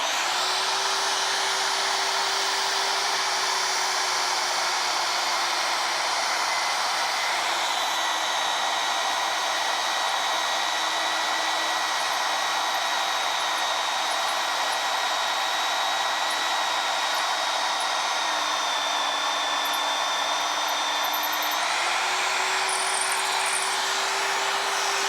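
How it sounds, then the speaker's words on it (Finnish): A Vevor magnetic drill cuts into iron with a milling-type cutter, giving a steady, loud motor whine with a sustained tonal drone that shifts pitch slightly throughout, with no voices. "Tämä uppoo paljon nopeammin tähän rautaan, mitä ne sahaan terällä olevat kuppiterät."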